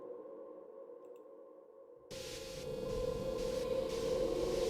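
An eerie, humming drone plays softly, then abruptly bursts into a louder wash of hiss and static layered over the steady tone, a haunted-radio sound design texture from the Bioscape library by Luftrum.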